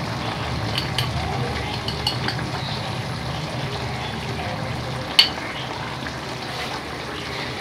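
Chicken being stirred in a pan with chili powder and coriander powder, a soft steady sizzle with faint scraping and one brief clink of a utensil, no talk.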